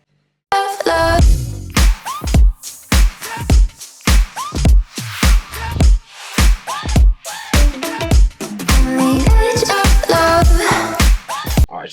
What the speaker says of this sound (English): Now let me play you guys the drums and the snares